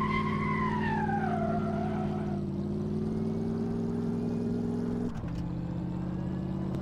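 Bentley T-series accelerating in Car Mechanic Simulator 2015, a steady loud engine drone with a rising whine early on, holding continuously near and alone for several seconds before a brief shift.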